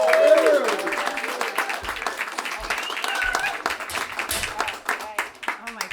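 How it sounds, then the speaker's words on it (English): An audience at a stand-up comedy show claps for a comedian coming on stage, scattered hand claps and applause running under a voice that talks and laughs over it. "Start clapping now for the wonderful Eliza Butler"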